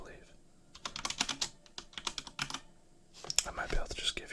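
Fingers type in quick bursts on a Corsair K95 keyboard with Cherry MX Speed switches, a close, crisp clatter of keystrokes broken by brief pauses, with faint whispering underneath.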